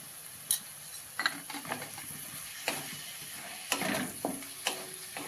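Masoor lentils sautéing with ginger, garlic, coriander and green chili paste, with scattered stirring scrapes and soft sizzle in short bursts, fairly quiet and close, no talking.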